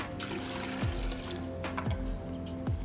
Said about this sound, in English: Let all that water drain through.